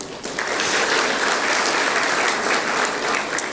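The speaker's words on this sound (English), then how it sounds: "Please join me once again in congratulating the graduates sitting here with a warm round of applause." A large audience at a university convocation ceremony gives the graduates a steady, dense round of applause, close and loud for the whole stretch, with no voices over it.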